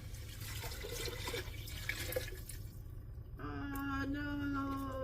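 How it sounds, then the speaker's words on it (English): Water being dumped out of a container into another vessel while preparing Portuguese bread soup with garlic in a home kitchen; a steady splashing pour that rises into a fuller, continuous trickle toward the end, close and moderately loud. "I put water, and I'm gonna dump out the water into here."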